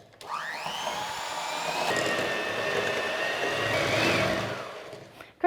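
Electric mixer creaming soft butter and sugar for a lemon drizzle loaf cake: the motor whines up to speed, then holds a steady, close whirring hum for about five seconds before cutting off.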